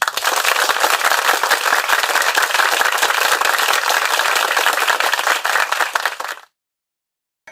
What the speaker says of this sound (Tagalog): Bigyan natin ang ating sarili ng isang malakas na palakpak